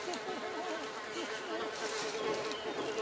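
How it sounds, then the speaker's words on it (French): A fly buzzes close by, its whining drone wavering up and down in pitch as it circles, continuous throughout. "Ah non, c'est une mouche!"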